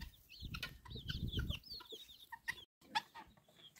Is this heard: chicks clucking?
yes